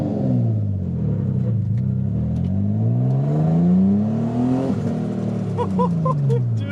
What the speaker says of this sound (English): I could actually fucking give it gas now